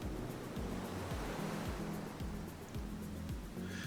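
Surf rolls steadily onto the beach at Great Yarmouth by Wellington Pier on a mild late-September day, a constant wash of breaking waves with some wind, no voices.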